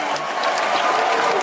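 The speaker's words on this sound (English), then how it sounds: "You like that little applause for us and stuff like that?" Brief burst of studio audience applause for hosts of a podcast talk show, steady close clapping throughout without talk.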